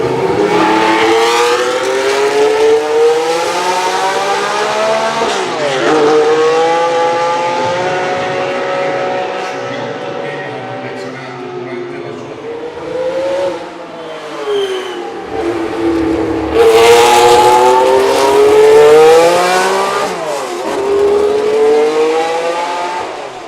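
Screaming Ferrari 312 F1 race car engine from 1968, driven at Monaco, revving up and down through gear changes over a long pass, loud and close, with rising and falling pitch throughout.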